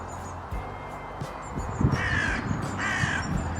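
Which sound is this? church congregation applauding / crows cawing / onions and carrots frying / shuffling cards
crows cawing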